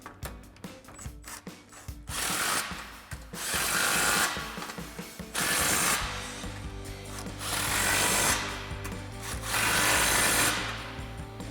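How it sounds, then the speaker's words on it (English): 15mm nuts on the clamps of an MBRP cat-back exhaust are tightened under a 2018-2023 Mustang GT with a power tool, which whirs in four loud, sustained bursts separated by brief pauses and ratcheting clicks, close up. "We're gonna tighten our 4 bolts, they're 15mm nuts."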